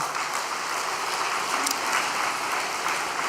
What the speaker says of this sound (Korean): 우리 강진교회도 더욱 발전하라고 격려의 박수 부탁드리겠습니다